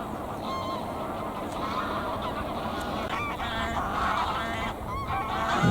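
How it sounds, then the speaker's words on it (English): A flock of geese honking continuously over steady wind or water noise, several birds calling at once, moderately close. "You see all the geese behind me,"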